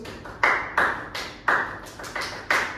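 A class performs the rhythmic focus clap (tepuk fokus) during a micro-teaching lesson: about seven sharp, fairly loud claps in a patterned sequence, with short pauses between groups and no talk.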